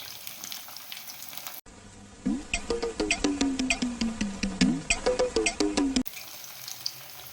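Baby corn and paneer lollipops frying in a pan, with a brisk crackling sizzle and quick repeated scrapes from turning the pieces, close and fairly loud between quieter stretches at the start and end, no voices.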